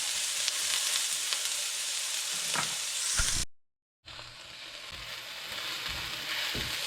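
Pork ribs with garlic and onion sizzle steadily in a pan for caldereta, with occasional scrapes and knocks of a utensil, close and moderate in volume. A short silent cut splits the frying into two stretches, and no one speaks.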